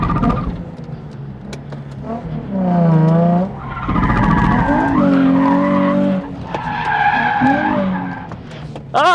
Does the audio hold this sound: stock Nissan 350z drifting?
yes